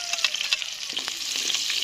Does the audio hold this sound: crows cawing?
no